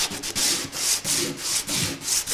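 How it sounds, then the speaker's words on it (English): Sandpaper rubs back and forth into a joint on a wooden battery box, a close, rhythmic scratching in about six even strokes with short pauses, heard alone without talk. "So I'd just look at sanding into that joint there"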